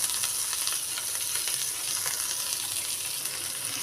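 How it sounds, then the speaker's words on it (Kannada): Chopped onions sizzling steadily in hot oil in a pan for masala bread toast, a dense continuous frying hiss close by with no talk over it. "ಎಣ್ಣೆ ಬಿಸಿ ಆಗಿತ್ತು ಈಗ ಫಸ್ಟಾಗಿ ನಾನು ಉಳ್ಳಾಗಡ್ಡಿನ ಹಾಕ್ಕೊತೀನಿ"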